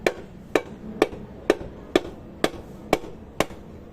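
An engine cylinder liner on an Isuzu 4BE1 is knocked out with steady hammer blows, eight sharp metallic strikes at an even, unhurried pace, close and clear against a quiet background.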